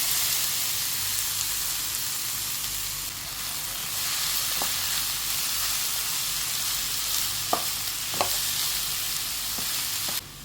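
Green plantain thoran mix is tipped into a hot pan with onion and curry leaves and stir-fried Kerala style, a steady loud sizzle with a few distinct scraping stirs toward the end.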